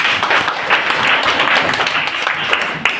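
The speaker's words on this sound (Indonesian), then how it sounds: "Ya, tepuk tangan." A classroom of students breaks into brisk, loud group clapping, the dense patter holding steady with a few sharper claps standing out near the end.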